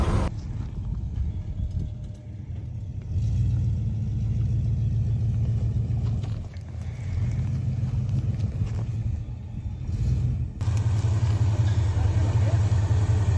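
A Ford F-350 crew cab truck drives along at around 40 to 45 mph, its engine and road rumble steady and loud inside the cab, swelling in waves as the throttle changes.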